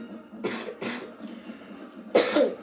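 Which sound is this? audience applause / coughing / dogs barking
coughing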